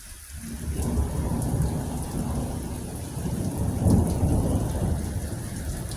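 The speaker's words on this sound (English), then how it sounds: "Make sure you like these lightning bolts" Thunderstorm with steady rain pouring on surfaces and a deep, rolling thunder rumble swelling through the middle, loud and continuous with no voices.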